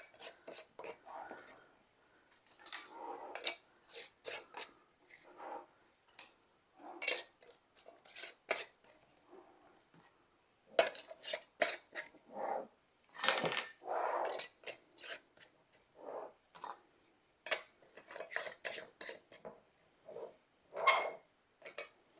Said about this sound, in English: We're going to put our 4 jars, canning lids on here.